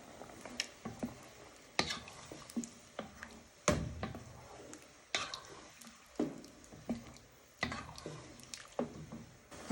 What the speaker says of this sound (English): Next step is to add in your gravy. And you want to give that a little stir.